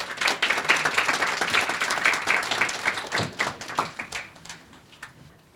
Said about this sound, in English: So if you can give a great round of applause.